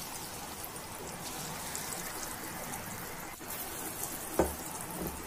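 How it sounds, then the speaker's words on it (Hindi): Chana dal pakora batter dropped into hot oil in a kadai, giving a steady broad sizzle and bubbling throughout with a sharper splash near the end, no voices. "अब मैं इस मिश्रण के छोटे छोटे पकौड़े डालकर तेल में तल ली हूँ"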